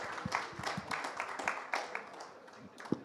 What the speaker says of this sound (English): Give them a huge, huge round of applause.